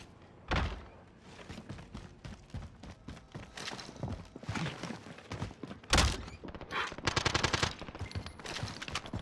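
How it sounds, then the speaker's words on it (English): Gunshots in a battle royale video game, a heavy isolated shot followed by clattering bursts of rapid fire and thuds, mid-distance and fairly loud, with no talk. "Who just shot?"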